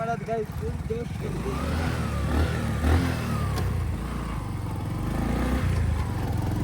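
A motorcycle engine idles and revs nearby, a steady rumble rising in pitch with a voice speaking over it.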